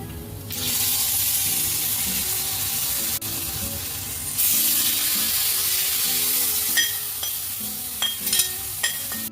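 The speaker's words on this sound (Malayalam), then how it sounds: "ഇനി നമുക്ക് ഇത് കപ്പയിലോട്ട് ഒഴിച്ചു കൊടുക്കാം." Coconut milk mixture with curry leaves pours into cooked tapioca for Kerala paal kappa, a steady close liquid wash with faint bubbling and a few light clinks of a utensil near the end.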